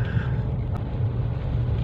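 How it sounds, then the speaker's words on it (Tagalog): Wind rushes over a microphone on a mountain road in Tanay, Rizal, a steady low rumbling buffet with a brief click, fairly close and continuous. "Mahangin-hangin ah,"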